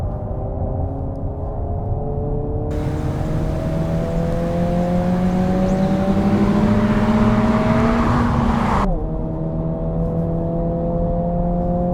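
A US-spec Honda Civic Si with Spoon customization revs up loudly, pitch climbing steadily as it accelerates, then drops with a gear change and keeps pulling, heard close with road noise.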